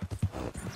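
Horse hooves clip-clopping in Red Dead Redemption 2, a quick run of close, muffled thuds in steady rhythm over a brief stretch.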